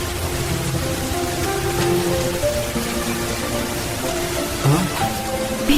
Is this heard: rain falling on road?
yes